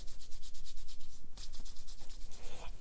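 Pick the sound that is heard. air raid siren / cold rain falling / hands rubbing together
hands rubbing together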